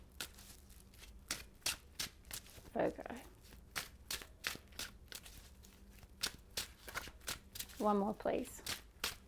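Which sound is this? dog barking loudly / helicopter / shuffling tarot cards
shuffling tarot cards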